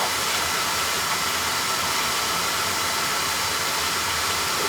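An oil burner fires steadily to warm a chimney during a no-draft service call, giving a loud, continuous broadband roar with a hissing rush and no pauses or voices.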